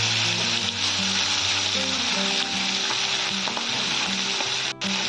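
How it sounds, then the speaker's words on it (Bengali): Turmeric-and-salt-coated fish heads fry in hot mustard oil, a loud, close, steady crackling sizzle that runs throughout with a brief dip near the end. "মাথাগুলো ভেজে নেব।"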